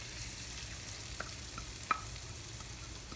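Mashed falafel fries quietly in about three spoonfuls of very hot oil, a soft continuous sizzle broken by a few faint scrapes and one small clink of a stirring utensil.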